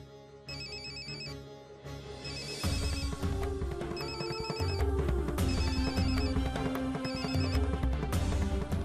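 A phone ringtone plays as a call is placed, a repeating electronic melody with beeping tones, loud and near, with no one talking.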